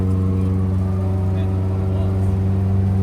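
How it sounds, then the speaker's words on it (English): A four-cylinder drag street car pulls away from a dead stop on a hill with a loud, close engine drone, a steady low rumble that holds and builds only slightly, with no clear talk over it. "from a dead stop on a hill, how gutless is the 7-second 4-cylinder street car?"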